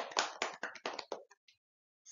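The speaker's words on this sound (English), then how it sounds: "let's give him a round of applause" A brief round of applause in a classroom, several quick bursts of hand clapping from a small group, fading out after about a second.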